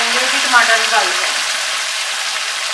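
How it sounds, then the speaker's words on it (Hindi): Chopped tomatoes sizzle in hot oil with fried ginger and garlic for keema karahi, a steady close frying hiss with a brief stir near the start. "अब इसमें कटे टमाटर डालेंगे और टमाटरों को इतनी देर फ्राई करेंगे कि टमाटर गल जाए"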